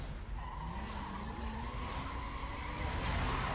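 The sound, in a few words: racing cars in a drag race, Need For Speed Most Wanted video game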